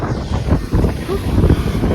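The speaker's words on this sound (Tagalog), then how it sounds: "Lakas ng hangin ngayon ah." Gusty wind blasting the microphone in loud, uneven rumbling surges while walking along a street, close and rough, with a faint voice partly buried beneath it.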